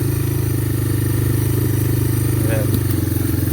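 A three-wheeler ATV engine runs steadily and loudly up close while being ridden outdoors on rough ground, its low throbbing drone constant throughout with faint clatter on top.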